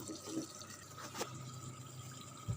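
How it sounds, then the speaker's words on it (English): Water pours and splashes steadily into a pressure cooker pot with mutton kheema, a continuous gurgling fill with a faint knock partway through. "So now I am adding some water into this."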